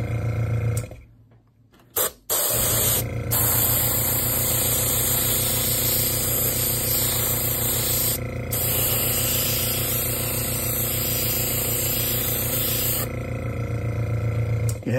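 Air compressor runs loudly and steadily with a low pulsing drone while an airbrush sprays flaky paint on a 1/350 scale Star Trek Enterprise refit model, broken by a short dropout near the start.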